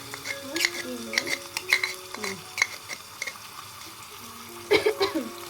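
Beef tehari masala with ginger and onion paste stirred in a tiny mini-kitchen pot, light sizzling with repeated small scrapes and clinks, a few louder stirs near the end, and faint tonal sounds in the background.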